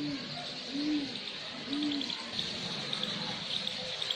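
Madrasi pigeons coo outdoors just outside their loft, three soft, low rounded calls spaced about a second apart over a steady background hiss of water or ambient noise.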